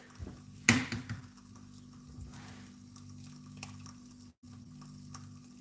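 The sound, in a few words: egg frying in oil in pan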